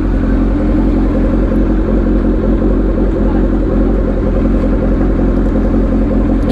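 Kawasaki Ninja H2R motorcycle, a loud continuous engine and exhaust rumble held close and steady throughout, with no talking.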